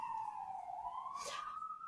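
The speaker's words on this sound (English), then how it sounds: "It's like ominous with the sirens going on behind you." An emergency siren wails faintly in the distance on a New York street, one long steady tone rising slightly, under continuous background hum.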